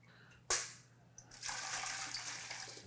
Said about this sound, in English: And just keep straining through a chinois, a fine mesh strainer.